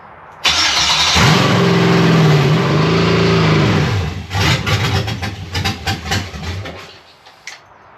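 An LS engine swapped into a 1994 Jeep Wrangler cranks with a whirring starter, catches, and settles into a loud close idle that rumbles and pulses before cutting off.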